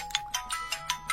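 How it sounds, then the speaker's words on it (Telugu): A mobile phone ringtone plays in a quick repeating electronic pattern of short chirping beeps, fairly faint and unbroken by talk. "ఫోన్ వస్తుంది."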